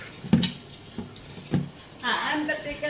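Boiled pork drops into a pan of sautéed garlic, peppercorn and brown onion for adobo, with a few clanking spoon-and-pan knocks followed by a rising sizzle as the meat lands.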